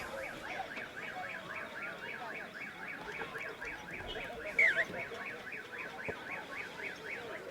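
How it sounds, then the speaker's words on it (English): A car alarm wails in a steady repeating two-tone pattern, moderately distant, going on outdoors at Birkenhead War Memorial Park during a rugby match between Northcote and Papakura reserves. "car alarm going off."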